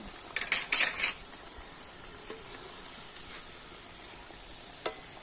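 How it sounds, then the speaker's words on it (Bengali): Snacks frying in a pan until reddish: a burst of utensil clatter against the pan in the first second, then a soft steady sizzle and one more faint clink near the end. "এই নাস্তাগুলো একটু লালচে করে ভেজে নেব"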